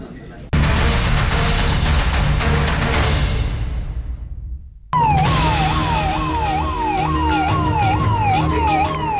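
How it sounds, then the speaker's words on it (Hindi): Ambulances on Lakhnau's Kalidas Marg pass with sirens wailing: one loud rising and falling siren, a brief fade, then a second siren with a rapid up-down yelp cutting in close and loud, with traffic noise beneath. "सायरन बजाकर गुजरती एम्बुलेंस गाड़ियां"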